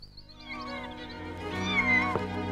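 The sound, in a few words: cat meowing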